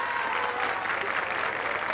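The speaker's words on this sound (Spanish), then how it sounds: "¡Aplausos para Zabaleta!" A studio audience at a tribute show applauds Zabaleta in a brief, dense burst of steady clapping.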